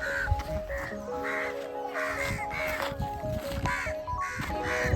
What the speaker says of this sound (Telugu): ఇక్కడ ఏంటంటే వెరైటీ కాకిలన్నీ వచ్చినాయి